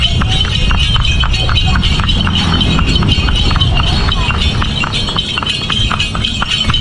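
Hooves of a horse pulling a delman carriage clip-clop in a quick, regular rhythm along a road past rice fields in Bantaeng, South Sulawesi, close and loud over a rumbling ride, with voices talking at times.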